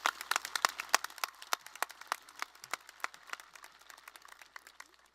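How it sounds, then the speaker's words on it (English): Applause for graduating senior choral students at a Bolingbrook High School graduation ceremony, a scattered run of distinct claps, fairly faint and distant, tapering off over a few seconds without talk. "Let's give another round of applause for our senior choral students."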